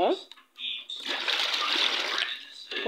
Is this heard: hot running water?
yes